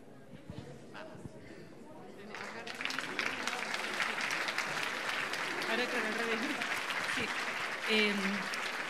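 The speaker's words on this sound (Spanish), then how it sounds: "un aplauso grande" A Nerd Nite Santiago crowd gives a big round of applause after astronomer María Teresa Ruiz's talk on stars; scattered claps swell after a couple of seconds into dense, sustained clapping, with voices mixed in.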